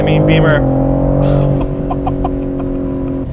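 A 2021 BMW M3 Competition accelerates on the road, its engine droning loud and close with a steady rising tone while someone talks over it.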